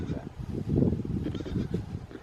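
Baby dairy goats on a homestead bleat in short, close, fairly loud calls, mixed with people talking and handling noise nearby.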